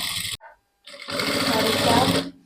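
A sewing machine runs top stitching on dress fabric in two bursts, a short whirring stitch run, a brief pause, then a longer steady rattling run close by, with a voice speaking around it.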